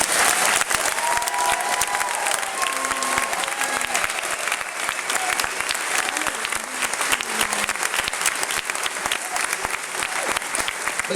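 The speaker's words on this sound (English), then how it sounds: "Let's give the students one more round of applause." Steady, dense applause from a large audience honoring students at a school event, continuous and even with a faint murmur of voices beneath the clapping.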